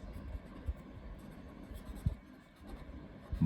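Pen or pencil scratching across paper while working through a linear equation in a maths lesson, a steady soft scribble with a few sharper taps, close and quiet with no talking.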